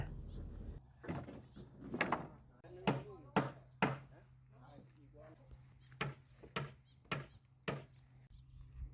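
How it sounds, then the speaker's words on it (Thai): Sharp wooden knocks ring out one at a time at an uneven pace, hammering wood close by while building a footbridge, with a voice speaking faintly between strikes. "เริ่มตอกแล้วค่ะ"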